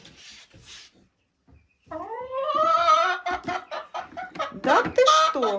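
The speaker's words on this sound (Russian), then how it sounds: "Вот так курочки разговаривают, значит, эта курочка несется точно." Hens clucking inside a chicken coop near a nesting box, a run of close, rising and falling calls with harmonic warbles, preceded by softer faint sounds and a brief pause.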